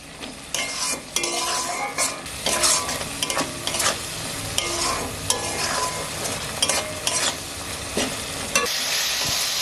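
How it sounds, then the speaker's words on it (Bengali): Spice masala with turmeric for egg curry fries in a pan, sizzling loudly and steadily while a spoon stirs and scrapes through it in a busy, continuous rhythm with no talking. "এবার আমি মশলাটাকে ভালো করে নাড়াচাড়া করে ভালো করে কষিয়ে নিব"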